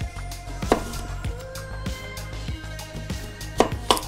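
A knife cuts two onions into quarters on a board, with a handful of sharp, irregular chops close by over a low steady hum.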